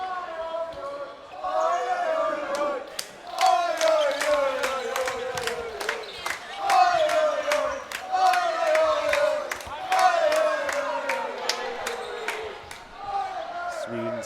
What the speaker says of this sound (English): Sweden's fans cheering the side on, hoping to extend that momentum.